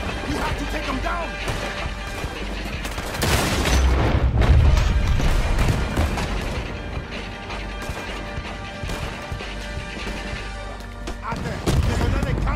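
A sharp shot is followed by a deep cannon boom amid a noisy Red Dead Redemption 2 battle with mechanical clatter, while voices talk over the action.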